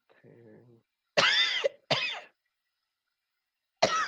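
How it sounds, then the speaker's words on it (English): Three sharp, loud coughs from a person with meningitis in quick succession, the last after a short pause, with a soft low murmur before them. "Sorry, I'm coughing a lot."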